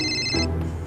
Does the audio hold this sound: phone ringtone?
yes